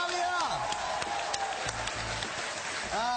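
Continuous applause fills the room at a comedy show, dense clapping at an even level throughout, with some faint tonal sounds and crowd noise mixed in.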